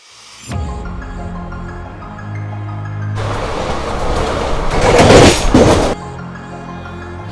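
The 12614 Wodeyar Express runs on rails between Bengaluru and Mysuru, a steady rumbling hum that swells into a louder, rushing clatter midway before easing back, with no talk.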